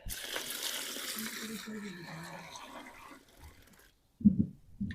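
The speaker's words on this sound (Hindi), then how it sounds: "अभी हम 7-8 लीटर पानी डालने लगे हैं।" Several litres of water pour into a container during a home preparation of a traditional iron compound, a steady splashing rush that fades out, followed by a short thump.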